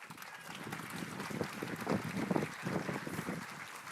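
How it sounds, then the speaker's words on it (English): Crowd at a food independence summit clapping, a rough, continuous wash of applause mixed with low rumble and wind-like noise, swelling slightly toward the middle. "Is that clapping because you don't want to hear me?"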